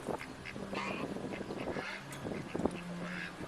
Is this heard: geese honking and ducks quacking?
yes